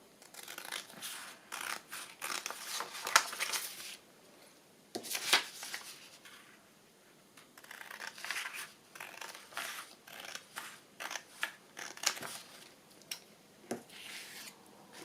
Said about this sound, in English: Cut round it.